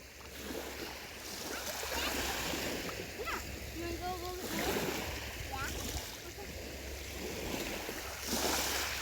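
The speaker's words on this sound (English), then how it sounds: "It's tiny little waves." Tiny lapping waves wash over rocks and some sand along the rocky North Shore of Long Island, a steady soft wash with faint splashes, and people talk nearby.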